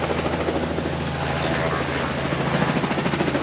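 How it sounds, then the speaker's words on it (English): Helicopter approaching outdoors on a rural road, its steady rotor thrum and engine drone continuous and fairly loud throughout, with low chopping pulses rising slightly toward the end. "Ooh, helicopter's coming in."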